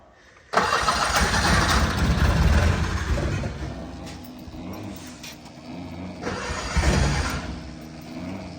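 A fuel-injected 1972 Honda N600 engine catches abruptly and roars up to a rough, loud run. It dips to an uneven idle, then revs up again, heard up close.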